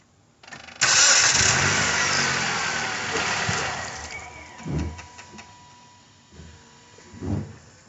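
A Dodge with a CVT transmission cooler just installed cranks and fires up, a sharp start followed by a settling idle, with a couple of small revs afterward, close and alone.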